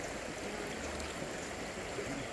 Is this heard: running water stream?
yes